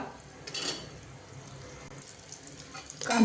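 Asafoetida and chopped onion hit hot oil over a lowered gas flame for pea rice, giving a steady, moderate sizzle with brief louder bursts near the start and again at the end.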